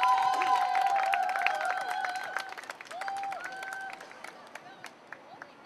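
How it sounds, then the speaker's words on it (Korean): Audience applause greets a dismissed Hanjin worker as he is invited forward to speak at an evening rally and culture event, strongest at the start and thinning to scattered claps, with tonal sounds and background voices over it. "우리 큰 박수로 앞으로 모시겠습니다."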